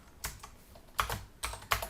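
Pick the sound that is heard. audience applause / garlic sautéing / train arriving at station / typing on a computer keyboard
typing on a computer keyboard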